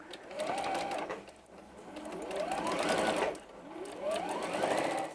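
A sewing machine stitches arc pieces of a quilt block together in three short bursts of whirring that rise in speed, each easing off before the next, close and fairly quiet.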